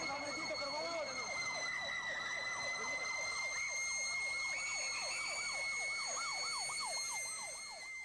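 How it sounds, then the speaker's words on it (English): Emergency vehicle sirens wail across a city, one rapid yelping siren cycling steadily over a sustained high tone, moderately distant and continuous throughout. "Sirens here and there, all over the city."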